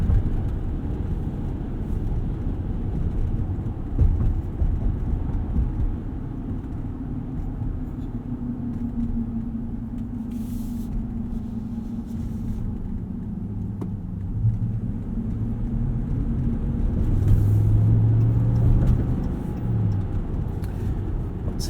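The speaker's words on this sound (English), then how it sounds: "Spinning the inside wheel there on a little bit of ice." A 2019 RAM 1500 Rebel pickup truck drives at night on icy roads, its cabin filled with a steady low engine and road rumble that swells briefly near the end, with no talking.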